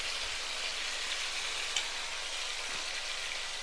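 A large fish fries in hot oil in a pan for meen pollichathu, a steady, even sizzle and soft crackle throughout at low level, with no voices.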